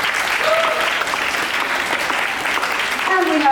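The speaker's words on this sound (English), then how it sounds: "Let's have a round of applause for her" A school assembly audience applauds a guest speaker, loud dense clapping across the hall that swells slightly near the end, with a few voices mixed in.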